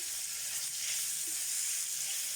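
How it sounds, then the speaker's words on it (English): Bacon pieces frying in a pan, a steady broad sizzle and hiss of fat that holds evenly throughout, close and fairly loud with no talking. "I'm going to fry these off until they're crispy."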